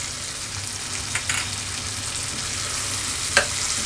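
Tomatoes and garlic paste fry in a pan for a dhaba-style matar paneer makhana curry, giving a steady, fairly loud sizzle with a couple of brief stirring clicks near the end; no one speaks.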